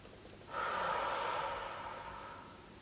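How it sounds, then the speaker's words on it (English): One long, deep inhalation close to the microphone, starting abruptly and slowly tapering off over about two seconds, alone without talk. "Now take a deep breath."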